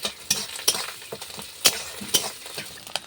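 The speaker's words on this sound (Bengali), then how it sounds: "যাতে ঝুরি ঝুরি ভাবে ভাজা হয় যাতে এই বড়ার মতো না হয়ে যায় এই জন্য আমি অনবরত নাড়তে থাকবো" Fish roe frying in a pan while being stirred constantly to keep it crumbly, a steady sizzle broken by repeated sharp spatula scrapes and taps on the pan, close and loud, with no talking.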